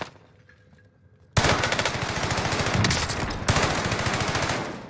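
Mounted gun in Warzone firing a long rapid automatic burst, loud and close, starting abruptly after a quiet moment and continuing with a brief stutter before resuming.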